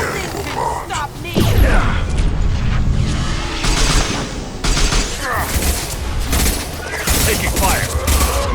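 Rapid bursts of gunfire and heavy impacts fill a Mass Effect 2 firefight, loud and continuous, with in-game voices shouting over the shooting.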